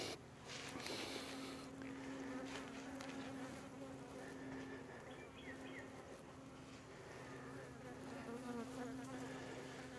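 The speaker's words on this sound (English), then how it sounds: "Yep, I already got one buzzing my head" Honey bees buzz steadily and close around an open hive during a routine check, a dense continuous drone with individual bees whining past nearby.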